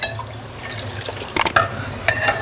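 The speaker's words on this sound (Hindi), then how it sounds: "जी तो जो मैंने शुगर सिरप तैयार किया था उसको अब हम इसमें छान के डाल देंगे।" Prepared sugar syrup is strained and poured into a milk sharbat, giving a short burst of splashing and trickling liquid over a low steady hum, with a few brief drips and clinks.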